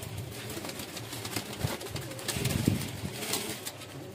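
Koti pigeons coo in a low steady murmur amid faint broadband background noise, close and fairly quiet, with no voices.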